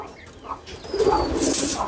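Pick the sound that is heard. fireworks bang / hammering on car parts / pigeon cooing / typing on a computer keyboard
pigeon cooing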